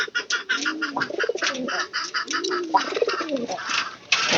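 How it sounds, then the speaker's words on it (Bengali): Domestic pigeons in a home coop during egg-laying time coo repeatedly at close range, giving a rhythmic series of low throaty coos mixed with a few short sharper calls. "এই যে নিচের ঘরের কবুতরটা, এটা আবার উপরে যাওয়া শুরু করে দিচ্ছে"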